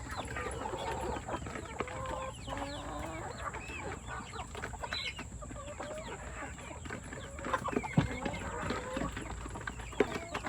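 Backyard hens clucking and calling in scattered bursts, fairly close, with a few sharper squawks, scuffling and background noise.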